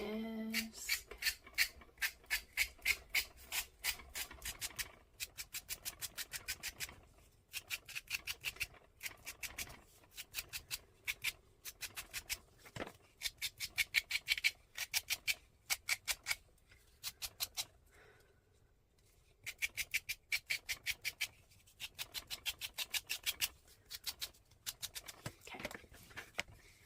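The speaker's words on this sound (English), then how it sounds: "Take our sanding disc." Rapid rhythmic scraping strokes of a sanding disc on a journal cover repeat in quick bursts, close and crisp, with brief pauses between runs.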